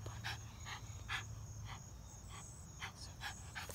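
A dog panting in repeated quick breathy bursts, roughly ten pulses spaced about a third of a second apart, close and fairly quiet over a low steady hum.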